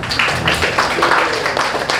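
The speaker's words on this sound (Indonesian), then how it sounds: "Berikan tepuk tangan untuk kita." Children in an elementary school classroom clap together, a quick dense patter of hand claps that stays close and steady for a couple of seconds.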